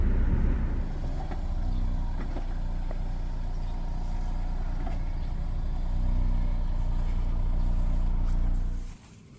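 A Honda S2000 convertible roof folds down, a steady mechanical hum and rumble that runs for about nine seconds at an even level and then cuts off abruptly.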